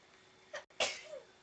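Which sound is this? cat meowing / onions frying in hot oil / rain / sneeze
sneeze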